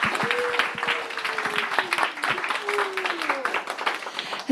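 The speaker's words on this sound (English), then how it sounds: "Everyone give them a round of applause," Audience applause at a South Asian performing arts summit after a panel, a steady patter of clapping from a crowd with a voice talking over it throughout.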